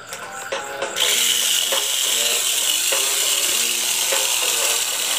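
An Auldey Super 1 chassis toy car with side dampers has its small electric motor switched on, starting with a click and then a continuous loud whirring buzz with a faint rhythmic rattle.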